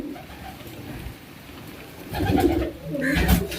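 A pigeon with shiny neck feathers coos nearby, with two throaty cooing bursts rising in the second half after a quieter stretch.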